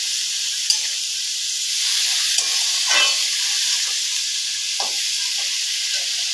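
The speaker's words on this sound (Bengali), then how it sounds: "এখন ভালো করে সবজিটাকে লবণ হলুদের সাথে মেশাবো।" Vegetables sizzle in a pan with salt and turmeric, a constant soft hiss broken by a few scraping stirs of a spoon. No talking.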